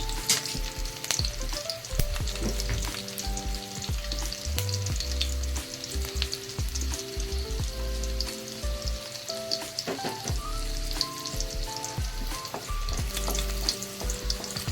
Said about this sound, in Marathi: आपलं तेल चांगलं तापले, त्यात आपण चेचून घेतलेल्या लसणीच्या पाकळ्या ॲड करून घेतोय.